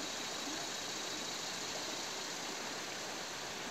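Steady, soft rush of creek water flowing nearby, continuous and even with no voices.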